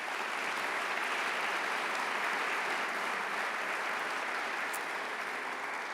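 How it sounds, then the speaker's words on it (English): Sustained applause from a crowd at a university athletics awards ceremony, steady dense clapping at even loudness throughout with no voices over it. "let's definitely give him a round of applause."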